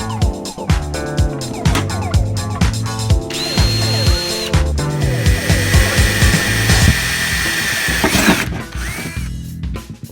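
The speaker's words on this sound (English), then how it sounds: "All the holes are drilled." Power drill boring holes through the metal body of an RTV wagon to fit a snorkel, loud close-up whine in repeated bursts that rise and bite as each hole goes through, with harsh grinding and clattering between bursts.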